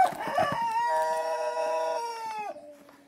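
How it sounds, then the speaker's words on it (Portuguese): An old rooster crows once on a rural homestead in the backwoods, a loud, close, drawn-out call that holds steady then drops at the end, after some brief rustling and clucks. "Tem um galo velho ali cantando."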